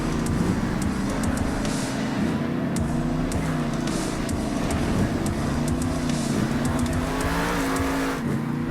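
Monster trucks in a wasteland setting roar past, a continuous loud engine drone with shifting revs filling the scene with no talk.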